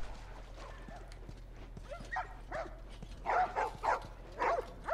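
Dogs bark in short, bright bursts in a refugee-camp setting in The Last of Us, a few scattered barks growing closer and louder toward the end over a low steady hum.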